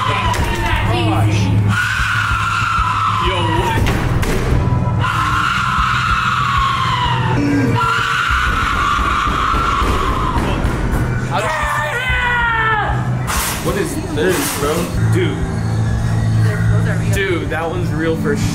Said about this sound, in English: Was that a scream? Yep, that was.